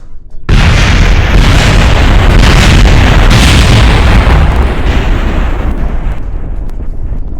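A rocket blows apart in Kerbal Space Program, a single loud, heavy boom that breaks into a dense, rumbling roar of explosion debris and holds loud for several seconds before slowly thinning out.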